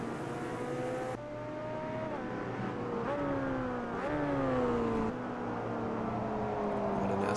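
A NASCAR race car engine at Daytona in the game Automobile Simulation 2 (AMS2) roars loudly and steadily, its pitch climbing and dropping sharply at several gear shifts.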